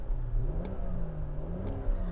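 A 2022 BMW X7 with a straight-six engine accelerates steadily, its mid-pitched drone rising and falling slightly over two seconds, heard from the cabin with no talking.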